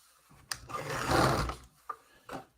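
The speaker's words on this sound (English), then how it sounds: "cut down my card just a little bit" Paper card trimmed down: a short rasping cut swells for about a second, bracketed by small sharp clicks and taps, close and fairly quiet.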